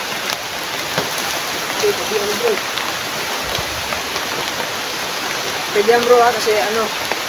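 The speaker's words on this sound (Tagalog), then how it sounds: "ulan" Steady hiss of rain falling on surfaces, with voices talking over it now and then.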